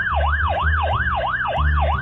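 Crank solar emergency radio sounds its SOS alarm, a loud wailing siren that sweeps up and down in fast regular cycles, steady and close over a low hum, with no talking.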